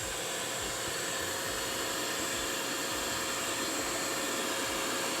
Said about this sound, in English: I'm just gonna go ahead and vacuum my car